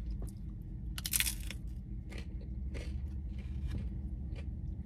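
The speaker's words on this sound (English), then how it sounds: "I think I'm gonna try the tacos," Crunchy little tacos from Jack in the Box are bitten and chewed, giving several crisp crunches and scrapes spread across the moment, close up over a low steady rumble, with no talking.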